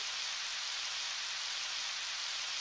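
Steady rain in the video game Harvest Moon 64, a continuous even hiss of falling water with no other sounds and one tiny click at the very end.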